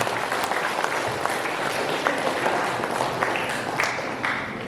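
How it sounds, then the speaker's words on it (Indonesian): Crowd at the opening ceremony of a provincial madrasah science competition claps continuously, a dense, lively roar of hands with scattered sharper claps standing out throughout. "Buktinya, tepuk tangannya mana nih?"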